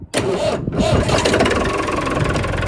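A farm tractor with a sticking starter and a failing solenoid is started with a key, cranking briefly and then catching into a steady, loud, close idling engine that runs to the end.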